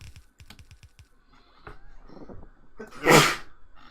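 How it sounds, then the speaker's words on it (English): A few light taps and shuffles, then one sharp, loud sneeze bursts out close by near the end. "gonna sneeze."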